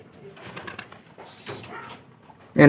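Soft, low pigeon coos murmur quietly amid faint rustling, then a brief loud burst of sound at the very end.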